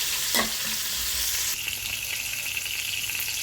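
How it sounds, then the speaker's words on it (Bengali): Boal fish frying gently in a pan, a constant soft sizzle with a brief stir or clink early on, then a steadier, brighter crackle of hot oil. "এখানে আমি ভালো করে অল্প আছে মাছটা বেজে নিব আস্তে আস্তে মাছটা বেজে"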